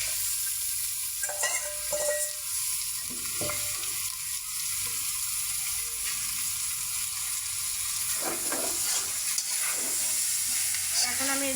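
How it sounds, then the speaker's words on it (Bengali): Tripe frying in oil, stirred slowly in the pan, with a steady close sizzle and occasional soft scrapes and clacks of the utensil, and no voices. "এখন আমি এই যে আবারও ভুড়িগুলো দিয়ে এখানে কিন্তু নাড়াচাড়া করে নিচ্ছি।"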